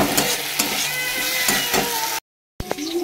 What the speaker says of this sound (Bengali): এইখানে লাল লাল করে চেষ্টা করছি আলুটা একটু ভেজে নেওয়ার